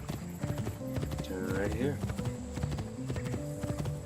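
Horse hooves clip-clop in a steady rhythm in the video game Assassin's Creed 2, with a brief neigh midway, under a voice talking.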